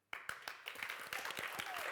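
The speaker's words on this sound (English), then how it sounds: "please give a round of applause for Cam" Applause from an audience at an International Women's Day 2022 celebration, starting abruptly with distinct claps that build into a fuller, fairly faint patter for a couple of seconds.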